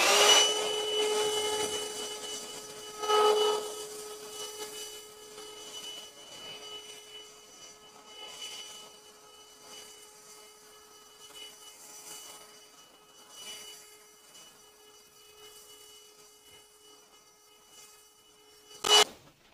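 A Parkside PHSSA 20-Li C1 cordless handheld vacuum cleaner runs with a steady, close motor whine, while intermittent scraping and rubbing from dust pickup and handling rise and fall, ending with a sharp click.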